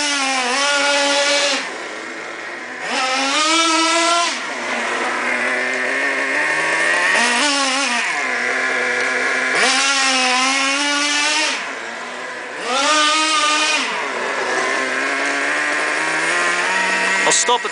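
Traxxas T-Maxx nitro RC truck racing around, a loud high-pitched buzzing engine that repeatedly revs up and dips as it speeds about, close and continuous throughout.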